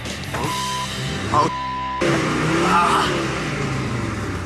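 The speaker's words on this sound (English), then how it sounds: "Headed for the hill, Jacob is in too high a gear for this slow speed." Mercedes G-Wagon with over 200,000 km on it, driven slowly uphill in too high a gear: a steady, strained mid-pitched engine hum that swells slightly and drones on, heard near and without talk.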